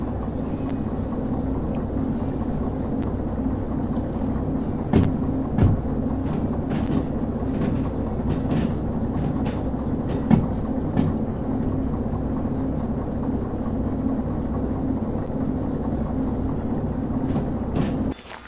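Train running through the game Derail Valley, a steady rumbling rail drone with a few brief clanks and knocks, continuous and alone for the whole stretch.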